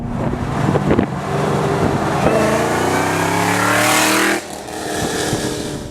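Chevrolet Camaro ZL1 dropping a couple of gears, then its engine roars under hard acceleration, pitch climbing steadily through the rev range, loud and close with wind noise, before cutting off sharply near the end.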